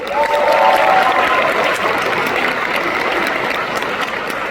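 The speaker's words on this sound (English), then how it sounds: "Round of applause for that." Loud, dense applause from a large crowd at a graduation ceremony, steady and sustained throughout, with a brief whistle-like tone near the start.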